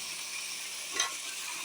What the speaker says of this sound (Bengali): আমরা আলু দিয়ে দিচ্ছি।